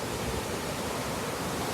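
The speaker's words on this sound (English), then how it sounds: "I'm speaking a bit louder now because there is a waterfall here." Steady roar of the waterfall at Cat Cat Village in Sapa, Vietnam, a loud, broad rush of falling water filling the whole moment with no pauses or other sounds.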